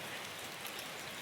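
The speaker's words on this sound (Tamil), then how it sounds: "மழை வருது" Rain falling steadily at a hillside Amman temple, a soft continuous hiss of drops hitting surfaces, fairly faint and even throughout, with no voices.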